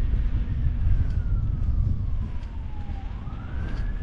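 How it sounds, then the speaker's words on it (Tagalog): An ambulance siren wails from a road during a cold motorcycle ride near falls, its tone sweeping slowly down and then rising again over heavy wind and engine rumble, with no talking. "Yo, may ambulansya pa."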